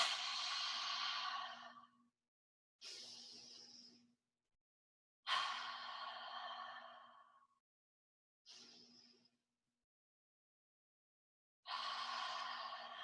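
Slow yoga ocean breathing done on a beach, five long breaths each swelling in as a rushing, wave-like hiss, then tapering off, close and alone, with silent gaps between breaths.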